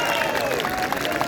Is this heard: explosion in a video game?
no